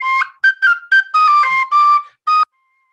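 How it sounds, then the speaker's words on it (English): A penny whistle plays a merry tune of short and held notes in a quick, bouncing rhythm, loud and close, solo with no talking before it stops. "She had a penny whistle playing merrily away."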